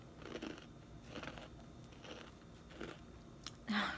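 Several soft crunchy bites of a slightly burnt homemade cookie and chewing sounds close up, spaced irregularly, ending with a louder crisp crunch.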